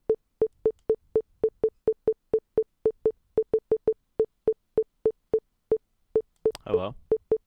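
Telephone line tone after a call drops: a steady run of about twenty short, evenly spaced beeps, loud and close, ending with a brief burst of voice.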